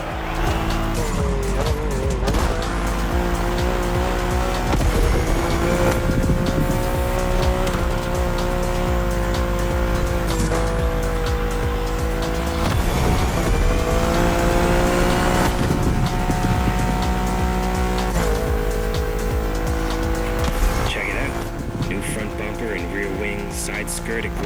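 A BMW with a Liberty Walk body kit drives in The Crew Motorfest racing game, engine revving up and down through gear shifts with tire squeals, all loud and continuous under a speaking voice.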